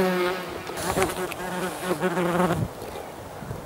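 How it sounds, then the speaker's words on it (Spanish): Yellowjacket wasps buzz steadily and loudly up close, a dense droning hum with wavering pitch from several insects, fading slightly near the end. "estas avispas a las cuales todo el mundo teme"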